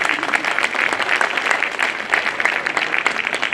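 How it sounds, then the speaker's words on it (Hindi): An audience at a lawyers' enrolment meeting of the Bar Council of Delhi bursts into vigorous applause, a loud, dense and continuous clatter of many hands with slight surges. "जोरदार ताली राठी साहब के लिए"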